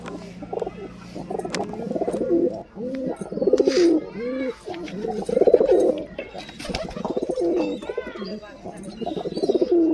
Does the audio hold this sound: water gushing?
no